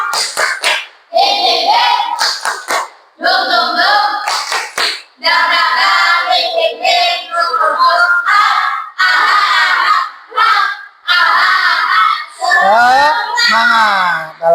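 Children in a classroom chant loudly in unison with rhythmic group clapping, a 'tepuk semangat' clapping chant led by a teacher; the voices and claps run continuously and energetically throughout, close and loud.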